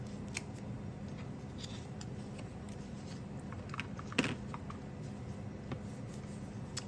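Scissors trimming paper for a scrapbook page give a quiet run of soft snips and paper rustles, with one sharper cut partway through and no talking.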